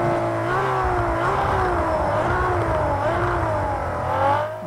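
Ferrari race car engine in Project Cars 2 at Laguna Seca, a loud continuous howl with rising and falling pitch as it revs through the corners, steady and close throughout with no talking.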